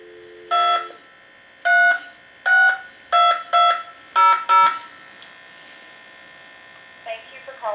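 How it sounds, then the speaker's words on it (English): Tone bursts from a converted Galway Irish crystal telephone, seven short two-tone pulses in an uneven rhythm, close and clear, followed by a faint brief tone near the end. "Give you some dial tone."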